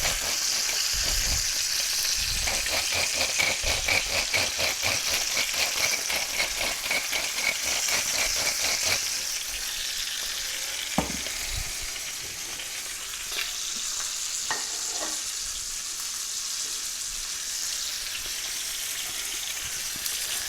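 A spatchcock chicken sizzles loudly in a pan on a stovetop burner, a dense, steady frying hiss with a rapid crackling burst early on, then settling into a softer sizzle with occasional pops.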